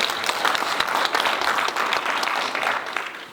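Audience at a peace and life forum in Jirisan applauds a lawyer as she is introduced, with dense and steady clapping from many people filling the room before it fades slightly.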